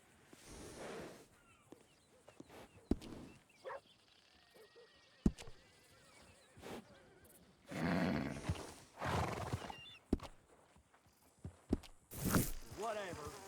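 A horse in Red Dead Redemption 2 snorts and whinnies in loud bursts between hoof clops and footsteps, while voices talk over the scene.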